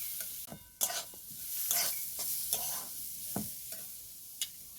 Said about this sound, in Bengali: খুব ভালো করে মিক্স করে নিয়েছি